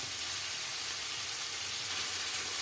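Chicken liver and gizzards frying in a pan, a steady close, bright sizzle and hiss that runs unbroken throughout.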